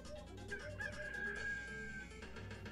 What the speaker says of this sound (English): Seems like a terrible place for a chicken.